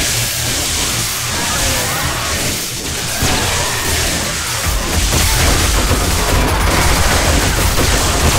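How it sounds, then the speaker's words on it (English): Rapid gunfire from a player defending a pyramid-shaped base against an attacking horde during a Blood Moon in the game 7 Days to Die, a dense, continuous barrage that grows louder and heavier in the second half. "Clearing it out a little with my gun as much as I can"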